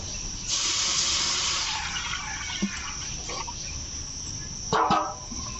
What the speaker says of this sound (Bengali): কড়াইতে দিয়ে দিচ্ছি জল